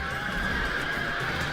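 Sarmatian noble horse archers charging in the strategy game Europa Barbarorum: a continuous mass of battle noise with horses neighing and a dense rumble of hooves, steady and moderately loud.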